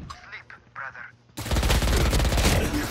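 Video game shooter gunfire during a competitive scrim match, a sudden loud burst of rapid automatic fire that takes over after a short stretch of quieter game sounds and voice chat.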